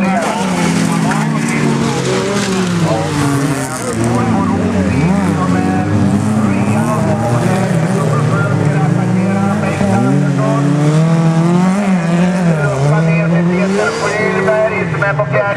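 Race cars in a senior A-final at Hede, roaring continuously and loudly at close range with shifting engine pitch throughout, under near-constant excited commentary.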